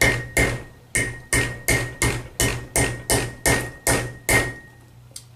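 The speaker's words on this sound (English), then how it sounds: "Little hammer strokes like this, just to retain the end of that strap" A small hammer taps over the ears of a steel strap clamp, fitted with a Fast-Lok C2 tool, in about eleven sharp metallic strikes at a quick, even pace, each ringing briefly before the next.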